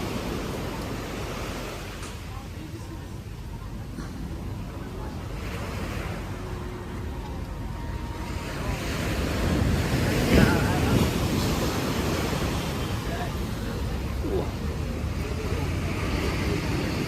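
Steady roar of surf and wind at Kuta Beach, Bali, broad and continuous, swelling louder midway with a brief sharper gust or wave crash, no voices.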